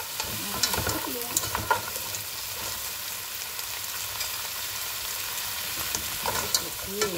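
Fresh blue crabs sauté with onion and ginger in a hot pan, giving a constant loud sizzle broken by scraping, clacking stirs of shells against the pan.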